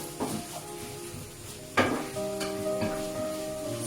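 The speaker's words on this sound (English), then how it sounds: "I'm still cooking and my bacon smelling really good" Bacon fries in a pan with a soft crackle, broken by clinks and scrapes of a utensil against the pan, including a sharp knock partway through, and no voices.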